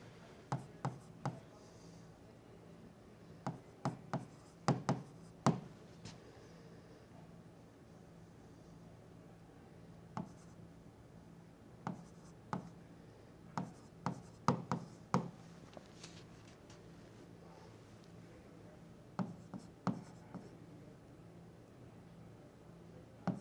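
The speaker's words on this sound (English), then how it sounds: "All you have to do is take it from over here and just write exactly what it says over here." Pen writing on paper while working through star sight reduction figures, a series of short scratchy strokes in bursts with pauses between, close and fairly quiet over a steady low background hum.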